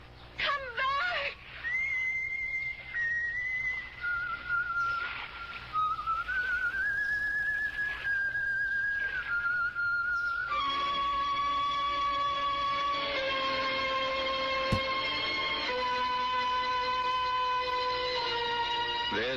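A lone ghostly whistled melody from the Supermarket Simulator game, a pure wavering tone stepping through pitches, turning to longer steady held notes with harmonics in the second half over a faint low hum.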